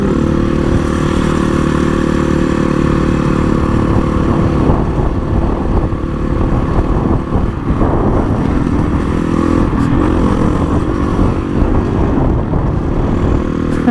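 Honda CRF 450 motorcycle ridden on the road, engine loud and close throughout with continuous roar and wind rush, revs rising and falling.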